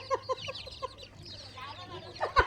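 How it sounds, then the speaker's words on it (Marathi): Frightened backyard hens cluck in quick, agitated bursts, several sharp calls early on and a louder squawk near the end, with low background hum throughout. "अरे बाबा कोंबडे घाबरले"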